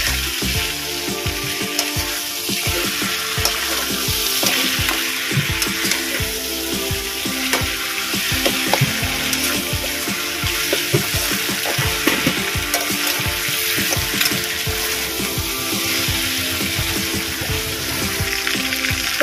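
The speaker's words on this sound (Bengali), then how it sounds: "আমি মাছের মাথাগুলো দিয়ে দেব। এটা ভালো করে মিশিয়ে নেব।" Katla fish heads sizzle and fry in oily spice paste while being stirred, a continuous crackle broken by frequent scraping and clattering stirring strokes, close and fairly loud, with no talking.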